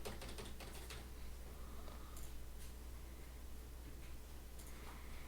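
A password is typed on a computer keyboard, producing faint, quick clusters of key clicks against a quiet hiss.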